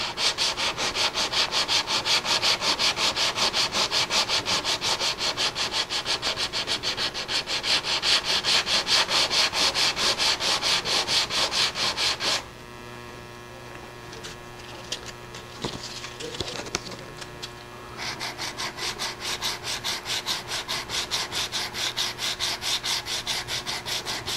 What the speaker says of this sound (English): We'll sand this level.